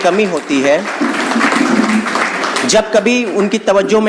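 Audience applause welcoming the chief guest at an Urdu Day literary gathering in Varanasi, a sustained broadband clapping wash running under a man's amplified speech throughout.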